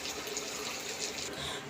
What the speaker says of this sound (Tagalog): yung tubig po na inilalagay dyan is yung galing na po sa thermos para mas mabilis po siyang kumulo